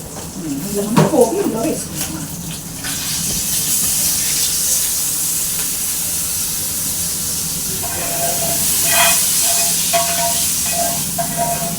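Spices for tempering, with asafoetida and turmeric, crackle and sizzle in hot oil for a ridge gourd curd chutney. A steady, loud hiss holds for most of the stretch, with a voice talking briefly near the start.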